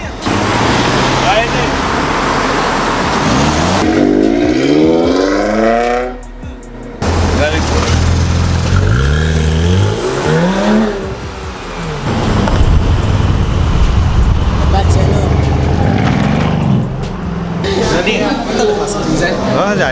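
Close exhaust revving from a Corvette, with repeated rising and falling engine sweeps mixed with road noise while people talk throughout.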